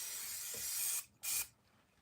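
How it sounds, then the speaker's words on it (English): Bursts of an aerosol spray paint can in an art studio, a long hiss ending just before one second, then a second short blast after a brief gap, loud and close with no talking. "Let me just close my spray paint."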